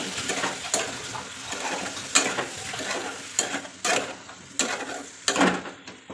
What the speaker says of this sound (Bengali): মশলা করে রেখেছি সেই মশলাগুলো দিয়ে হালকা নাড়াচাড়া করে